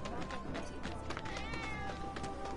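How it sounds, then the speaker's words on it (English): A cat meows a few times amid busy game sounds and background music in Final Fantasy 7 Remake, the calls rising and falling over a dense, steady mix. "Ah, that was definitely a cat."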